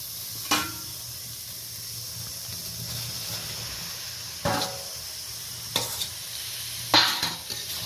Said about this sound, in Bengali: এই পর্যায়ে আমি ভেজে রাখা পটল, আলু, চিংড়ি মাছ একসাথে কষানো মশলার সাথে অ্যাড করে দেব।